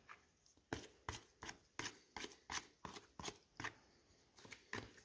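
A dough scraper drags around the sides of a bowl of no-knead sourdough dough, pulling loose flour off in a run of about a dozen quick, regular scraping strokes, close and fairly quiet, with no voice.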